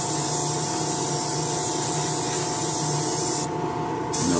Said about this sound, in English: I'm going to go ahead and finish spraying her down.